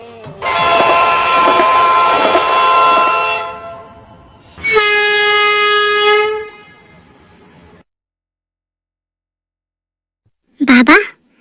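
A train horn sounds loudly nearby in two long, sustained blasts with a short gap between them, followed by silence and then a brief, sharp burst of sound.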